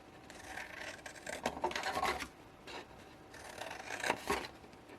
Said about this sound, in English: And I'm just cutting straight on all of those panels.